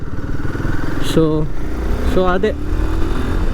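A Royal Enfield Himalayan 450 adventure motorcycle cruising, its engine droning steadily and close throughout while a rider talks over it.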